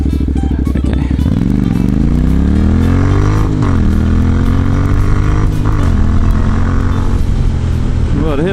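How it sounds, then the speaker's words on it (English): A commuter motorcycle (not a sports bike) accelerates hard toward 100 km/h, its engine rising in pitch through several gear changes with brief dips between shifts, loud and close throughout. "to hit 100 kilometers an hour on my nice, comfortable commuter motorcycle"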